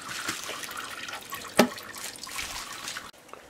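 Coolant drains from a 2004 Kawasaki Vulcan motorcycle engine as a soft, continuous trickle with occasional drips and one sharper splash, close and moderately quiet, alone.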